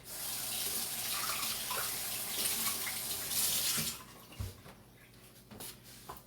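A kitchen tap runs steadily for a few seconds while something is rinsed under it, a close splashing hiss that stops abruptly, followed by a few faint knocks and drips.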